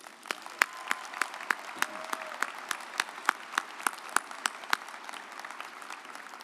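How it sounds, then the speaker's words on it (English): Audience applause at a West Virginia University College of Creative Arts and Media May commencement ceremony, steady clapping from a large crowd with sharp individual claps standing out, continuing evenly throughout. "How about a big round of applause for them again?"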